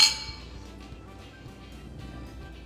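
Drinking glasses clinking together in a toast during a live home cooking session, one bright clink at the start that rings and decays over the next seconds, with no talking over it.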